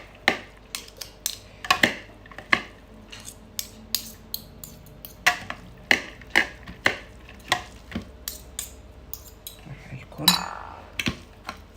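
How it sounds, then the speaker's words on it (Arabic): A fork mixes sushi cake ingredients such as crab, salmon and carrot in a bowl, giving a steady run of sharp, close clinks and taps against the bowl, with one louder scrape near the end. "دايما جربوا خلطوا بالشوكة"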